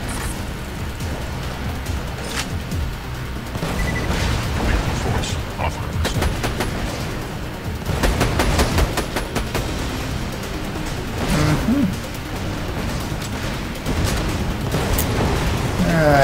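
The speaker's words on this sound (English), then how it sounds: "A lot of rockets heading my way." Rockets and gunfire explode in a shooter video game, a dense run of booms, bursts and sharp cracks rolling one after another at varying distance, with a few louder blasts standing out over a constant rumbling backdrop.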